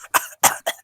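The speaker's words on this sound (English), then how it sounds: "I made him choke. Made him cough." Three sharp, close coughs from a man choking on something caught in his throat during a podcast conversation, coming in quick bursts with brief gaps between them.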